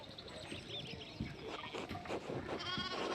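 Sheep bleat and call in a farm setting in the game Pentiment, several overlapping animal cries rising over a busy rustic background, close and fairly loud, with no talk.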